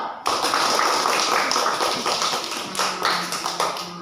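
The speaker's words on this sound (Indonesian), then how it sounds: "Tepuk tangan dulu" A classroom of pupils claps their hands together, starting abruptly in a loud, dense burst and continuing for about four seconds before loosening into rhythmic, more separate claps.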